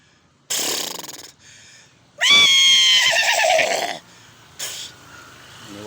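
A thin horse with a lump on its leg neighs in loud, close bursts: a short call, then a long quavering whinny, then a brief final snort-like cry, with quiet gaps between.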